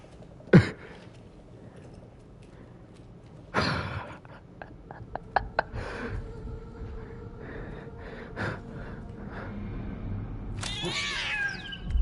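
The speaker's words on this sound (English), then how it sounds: "Ah, darn cat." In the game Death Stranding 2: On the Beach, a cat lets out a few short meows and snorts between sharp bursts, with soft ambient noise underneath and no clear talking.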